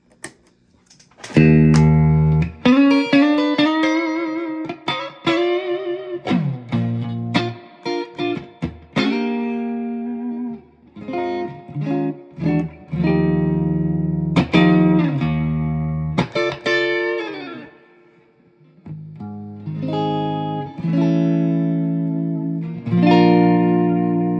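A Fender Stratocaster electric guitar plays through a Fender Princeton Reverb tube amplifier, with loud sustained chords and single-note runs ringing out with reverb, pausing briefly between phrases.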